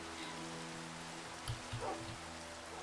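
Soft, constant Minecraft rain falls as a faint even hiss, joined by a few brief muffled thumps near the middle and a quiet sustained game tone underneath.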